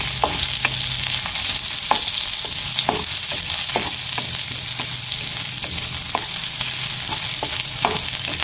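Sliced onion sautéing in hot oil in a pan for a coconut-milk fish stew, a steady loud sizzle broken by regular scrapes and clacks of a stirring utensil, with no talking.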